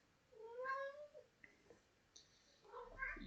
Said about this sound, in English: You might be hearing my cat,